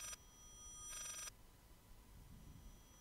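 Old telephone ringing in the Layers of Fear horror game, two bright bursts of bell ringing separated by a short gap, then a quiet, low room hum.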